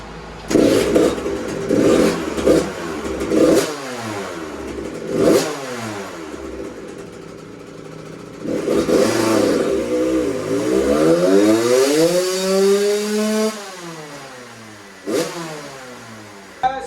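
A 2001 Suzuki RM 80 two-stroke dirt bike fitted with an FMF Shorty silencer revving on a dyno: sharp blips, then a long loud pull rising steeply in pitch before dropping off, with a final burst at the end.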